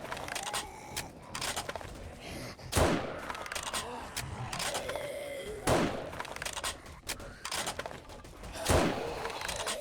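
Three loud, sharp hunting-rifle shots ring out about three seconds apart in the zombie survival game 7 Days to Die, fired at weaker zombies around a country store, with busy game clatter and scuffling in between.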